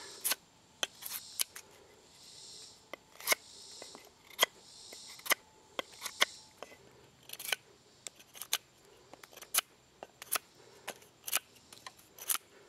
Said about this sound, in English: Trying to cut slow so you guys can actually appreciate it.